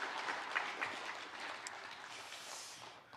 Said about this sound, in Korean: 오늘 우리 교회 새로 나오신 분들도 우리 환영의 박수 보내겠습니다.